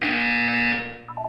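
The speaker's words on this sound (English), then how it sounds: "You will hear a buzzer. When you hear the buzzer," A loud, steady electronic buzzer blares in a Portal 2 test chamber, holding for about a second before cutting off, followed by a few brief softer chime-like tones.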